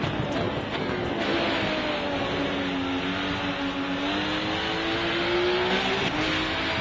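Race car engine in the RennSport racing game climbing steadily in pitch under full power, a continuous loud drone with a rising harmonic line and faint tire noise, with no voices.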